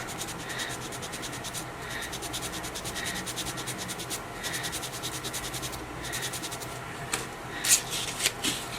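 A wood-burned pyrography piece being sanded with 320-grit sandpaper to fix mistakes; steady close rasping strokes in a repeating rhythm, with a few sharper scratches near the end, no talking.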